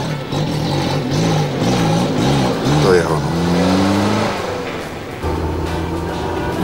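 A car engine rises in pitch as the driver gives it gas, with gear-whine tones climbing and then settling into a steady hum. A voice talks over it.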